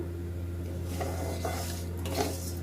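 Vermicelli (sevai) frying in a pan, with a low continuous sizzle and several scraping, clinking stirs of a utensil against the metal pan over a steady hum.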